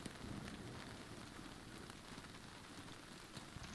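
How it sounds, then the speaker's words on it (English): Hail pelting the player in the survival game Nightingale: a steady, faint patter of many small impacts, dense and even throughout, with no talk. "The hail is hitting me."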